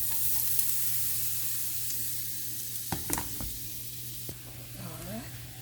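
Julienned vegetables seasoned with black pepper and salt sauté in a pot as a steady, moderate sizzle, broken by a few clanks and scrapes of stirring around the third second.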